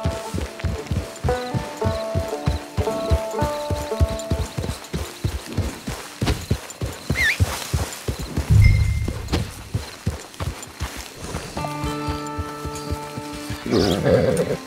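Hooves pound in a rapid, steady rhythm as a horse gallops in the Red Dead Online video game, loud and close over a musical score, with a brief snort partway through.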